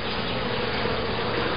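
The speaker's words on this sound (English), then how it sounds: "It looks like we've got bees on 7 of the frames." Dense, continuous buzzing of many honey bees in a hive built from a captured swarm, a steady hum filling the whole clip at close range with no voices.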